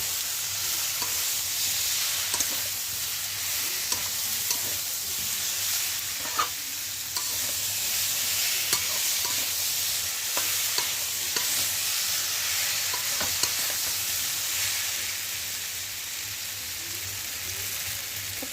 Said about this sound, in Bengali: ফুলকপিগুলো একটু নেড়ে চেড়ে নেবো মশলার সঙ্গে ভালো করে